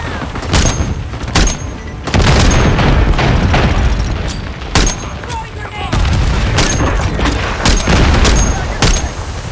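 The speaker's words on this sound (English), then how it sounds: "Cluster mine deployed." Cluster mine explosions in Call of Duty MW3 on a multiplayer hardpoint map, a rapid series of loud booming blasts and gunfire bursts repeating through the scene, mixed with in-game radio voices.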